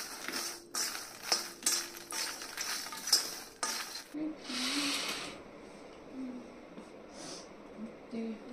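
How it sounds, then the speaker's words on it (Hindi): A pan of roasted makhana (fox nuts) being stirred with salt gives light scraping and clinking in short bursts for a few seconds, then settles into quieter rustling with faint noises nearby. "तो नमक डाल के इनको मिक्स कर देंगे"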